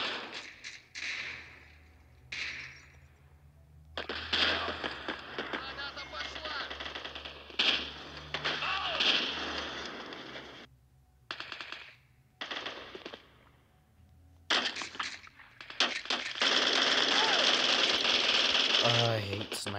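Rapid automatic gunfire bursts from the first-person shooter Bullet Force, including an enemy firing from behind, come in repeated loud bursts with short gaps, then turn into a sustained barrage near the end, with voices talking throughout.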